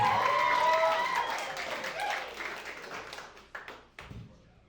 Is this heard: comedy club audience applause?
yes